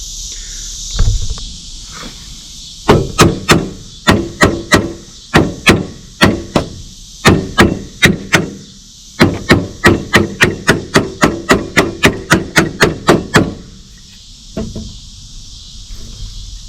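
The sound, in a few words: tapping a flywheel into place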